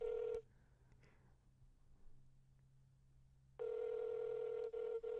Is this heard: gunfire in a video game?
no